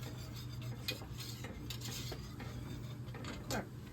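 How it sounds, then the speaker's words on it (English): A whisk scrapes and clinks against a pot while stirring an elderberry jelly mixture, quiet and close, with light irregular metallic taps. "Go ahead and whisk that."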